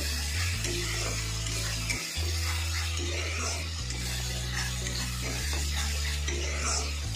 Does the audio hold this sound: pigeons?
no